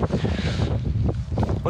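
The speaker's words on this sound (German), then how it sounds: "Boah, ist das windig!" Strong wind buffets the microphone outdoors in the wild, a loud, steady roar with gusty rumbling throughout and no voice.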